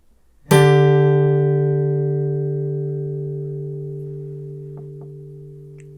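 A single sustained chord for ear training struck once, ringing loud and clear with rich overtones and decaying slowly, with a couple of faint ticks near the end.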